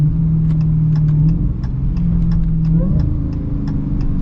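A 2022 Dodge Challenger SRT Super Stock engine drones steadily close by, its low note stepping down and flaring briefly as the car downshifts, with faint ticking over the top.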